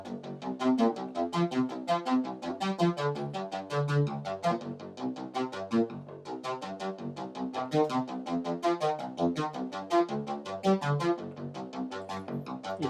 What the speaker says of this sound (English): now what you're hearing is really a random sequence, but from a set of preset notes